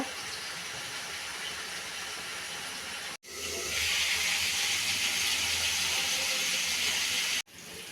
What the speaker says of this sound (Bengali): তেলে পাঁচফোড়ন দিয়ে কেটে রাখা শশা দিয়ে দিলাম, নেড়ে কষিয়ে নিব।